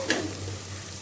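Ginger garlic paste sautéing with onions in a pan, giving a short, steady sizzle with a brief scrape at the start and a low hum running under it.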